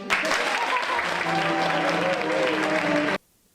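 Audience applause in a hall, dense and steady for about three seconds with some voices mixed in, then cutting off abruptly into near silence.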